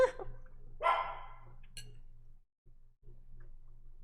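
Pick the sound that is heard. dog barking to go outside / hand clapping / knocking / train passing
dog barking to go outside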